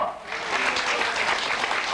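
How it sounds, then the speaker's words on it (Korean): Audience applause fills a parish groundbreaking-ceremony singing contest, a steady dense wash of clapping from a crowd that holds at full strength for two seconds. "박수 운동 한번 다시 해보시기 바랍니다. 박수!"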